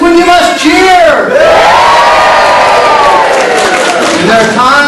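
An audience at a Mitkof Mummers show cheers loudly with whoops and shouts. The voices rise together into a sustained, rowdy roar that fills the room from start to finish.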